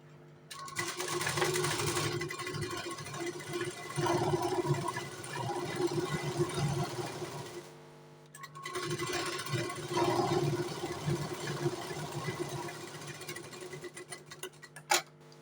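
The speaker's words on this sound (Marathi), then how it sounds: "त्याची दाब शिलाई मारायची." A sewing machine runs steadily while stitching a blouse, two long continuous whirring stretches separated by a brief pause, close and moderately loud, with no speech.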